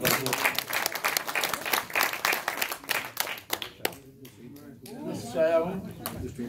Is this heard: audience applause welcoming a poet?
yes